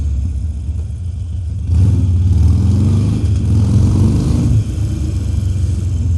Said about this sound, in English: as you can hear, you know, my bike sounds like a bit of a monster